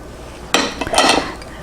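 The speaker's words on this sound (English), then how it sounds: "whisk it very fast so it doesn't cook" A whisk beats Mornay sauce in a bowl very fast, a brief, close, bright clattering swish lasting under a second, with quiet before and after.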